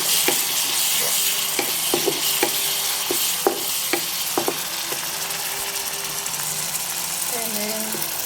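Eggs frying in a pan with a steady, dense sizzle throughout, broken by repeated clinking scrapes of a utensil stirring them; close and fairly loud, with no talking.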